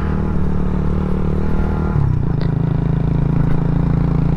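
A Shineray Worker 125 motorcycle with a rotary gearbox idles and drones steadily, its engine note shifting partway through as a gear change is fumbled, with a faint clunk; no one speaks.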